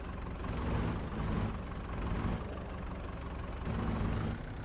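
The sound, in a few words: tractor engine in video game Farming Simulator 22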